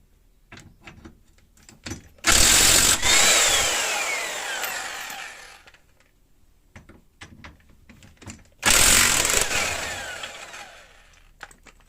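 Impact wrench unscrewing bolts from a Mazda 626 steering rack in a garage: two loud, sustained bursts of rattling, each lasting a couple of seconds and separated by quieter clanks and handling noise.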